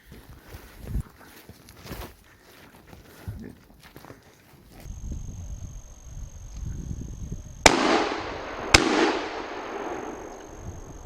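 Shotgun shots fired with bird load during a driven hunt in Europe, two sharp loud blasts about a second apart near the end, each ringing out with echo, after a stretch of rustling, footsteps and faint voices.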